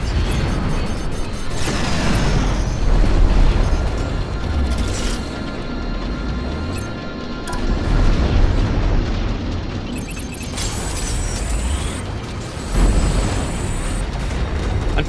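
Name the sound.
explosions of ships blowing apart in Strike Suit Zero video game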